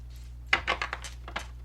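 A brand-new stained glass tarot deck being shuffled, giving a short run of crisp, light card flicks and clicks at close range against a quiet background.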